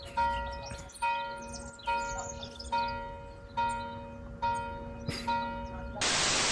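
A bright bell chime rings repeatedly, a cluster of clear ringing tones struck about every second, ending with a burst of hiss.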